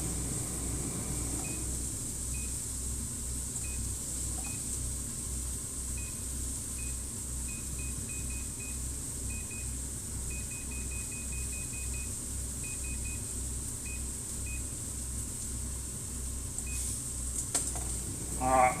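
An air fryer cooking steak gives a steady, even fan-and-heater drone throughout, with a faint high tone pulsing in short intermittent dashes and a louder clunk near the end.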